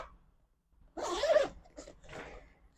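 A pocket zipper on a 40L carry-on travel backpack is pulled open in a few short, rasping strokes, close and fairly loud, following a quiet pause.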